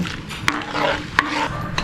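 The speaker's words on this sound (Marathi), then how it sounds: "आता हे गूळ विरघळेपर्यंत मी असंच थोडंसं ढवळून घेणार आहे" Jaggery melting in a pan as it is stirred, with soft scraping and a gentle sizzle, punctuated by three sharp clicks of the spoon against the pan.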